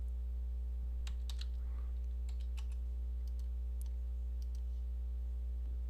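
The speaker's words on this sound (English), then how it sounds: "I just typed this little message up here" Quick irregular clicks of computer keys as a short message is typed, faint and close over a steady low electrical hum.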